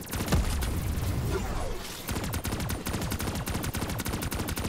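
Rapid automatic gunfire from a gun in Black Ops 3 Zombies, a loud, steady stream of closely spaced shots that briefly breaks off and then resumes, with no talking.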